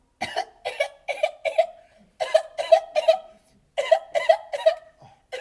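A series of short, sharp coughs in quick clusters of three or four, close to the microphone, separated by brief pauses.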